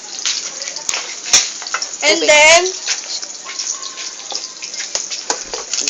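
Tap water runs briefly into a pot for a vegetable broth, a short gushing burst in a home kitchen between spoken cooking instructions, with a voice talking over the surrounding clatter.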